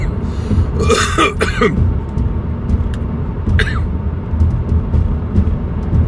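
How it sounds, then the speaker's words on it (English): A few harsh coughs and throat clearing come in a short burst early on, over a constant low rumble of road traffic. "I'll stop coughing soon."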